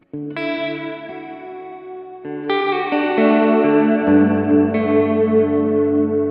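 Electric guitar chords through a Tone Master Pro with reverb set fully wet ring out, each strum blooming into a long washy tail, with layered notes stacking over six seconds.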